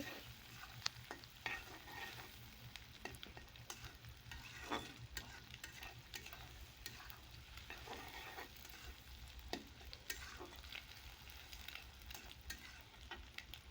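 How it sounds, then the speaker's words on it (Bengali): Chopped tomato fries in oil for egg noodles with a faint, steady sizzle. Scattered soft spatula clicks and scrapes run over a low background hum. "টমেটোটাকে এখন আমি খুব ভালোভাবে ভেজে নিব তেলের সাথে"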